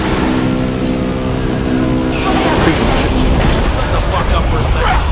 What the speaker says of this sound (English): this stupid sounding car, it sounds like freaking crapping lawnmower